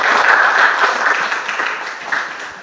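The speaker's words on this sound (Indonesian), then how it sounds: "luar biasa, kita beri aplaus." Classroom audience clapping for a group that has just finished presenting, a steady wash of many hands that gradually thins and fades toward the end.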